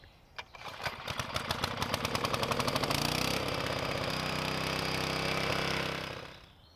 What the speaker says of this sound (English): This mower is from the 90s and it has a 4-stroke engine.